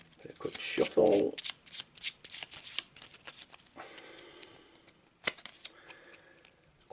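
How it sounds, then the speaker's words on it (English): Cards are shuffled for an Arkham Horror board game: close, brisk riffles and flicks crowd the opening seconds, then scattered lighter shuffling taps follow with quieter gaps between. "A quick shuffle"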